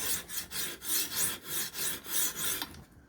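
A knife is drawn full length across sharpening stones on a Ruixin Pro sharpener, a rhythmic rasping scrape repeating about ten times in even back-and-forth strokes, close and clear.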